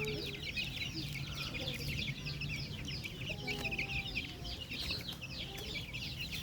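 Young chicks set down on the ground peep and cheep continuously in a dense, high chorus, with occasional clucking from nearby fowl and faint background noise.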